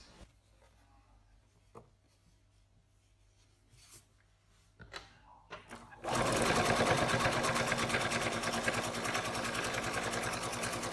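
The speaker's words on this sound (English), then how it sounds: "lift the top layer up and sew on the line hidden" A sewing machine stitches a pocket seam, starting after several seconds of quiet handling clicks and then running as a loud, fast, steady mechanical whir close by until the end.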